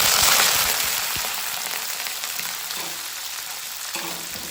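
Onions and fenugreek seeds fry in hot oil in a pan for a Tamil kara kuzhambu, giving a steady, dense sizzle that crackles close and loud from start to finish, with occasional stirring scrapes.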